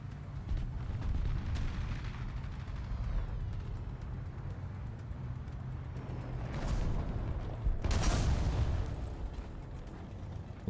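A Marder tank is destroyed in War Thunder with booming blasts over a constant roar of engine and battle noise, a sharp burst near the middle and a heavier explosion toward the end.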